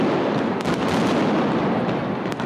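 A fireworks show over a cathedral in Sicily, heard as a loud, continuous barrage of dense crackling bursts and booms with no pauses.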